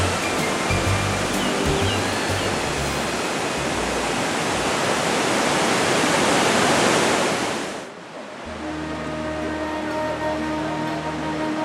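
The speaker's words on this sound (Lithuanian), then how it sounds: "O čia užtvanka ir krioklio pradžia." Water pouring over a dam at the start of a waterfall, a loud, dense, steady rush that cuts sharply to a lower, softer roar of flowing water partway through.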